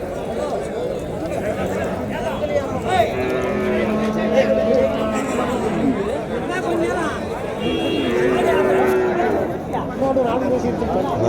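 Cattle lowing repeatedly at the Uthangarai cattle market, a busy livestock fair with large bullocks and native cows, the moos rising over steady crowd chatter and background voices.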